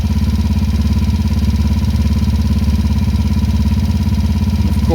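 A 2016 Yamaha Raptor 90 ATV engine idles nearby with a loud, steady, fast-pulsing putter that holds an even rhythm throughout, with no talking.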